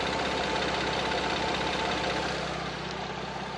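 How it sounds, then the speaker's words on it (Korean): Hyundai Grandeur HG 3.0 in Royal trim idling, a steady, smooth, low engine hum heard up close with a constant even drone and no talk over it. "엔진 소음 먼저 들려드리면은"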